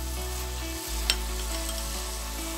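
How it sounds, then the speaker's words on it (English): Clarified butter (desi ghee) sizzles loudly and steadily while milk cake is stirred in the pan, with a constant close frying hiss, a low hum and one brief utensil clink. "More clarified butter in. Another tablespoon of clarified butter."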